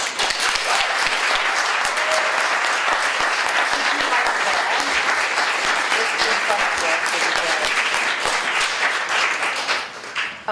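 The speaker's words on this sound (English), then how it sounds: "Let's give them a round of applause as well" A crowd at a student and staff panel discussion gives a sustained round of applause, dense and loud throughout with some voices mixed in, thinning out and fading at the very end.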